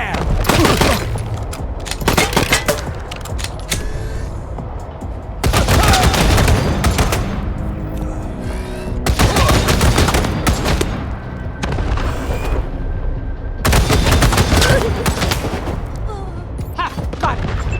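Heavy bursts of gunfire in Wasteland 3 on PC, loud volleys coming in several separate waves with short quieter gaps between them.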